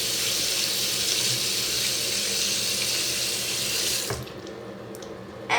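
A faucet runs loudly into a sink while a homemade balloon squishy is washed under the stream, steady rushing water that cuts off abruptly near the end, leaving a quiet room.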